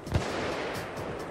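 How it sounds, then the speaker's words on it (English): A single sharp sniper rifle crack opens a brief moment in the game PAYDAY 2, during a Big Bank heist on Overkill difficulty, followed by a dense wash of background game noise. "Snipers just popping."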